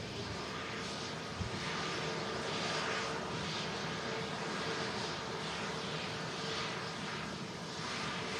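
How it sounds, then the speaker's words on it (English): A Ryanair airliner arriving from Faro comes in to land, its engines giving a steady, moderately loud roar that holds evenly throughout, with no voices. "the next aircraft to land is going to be a Ryanair from Faro"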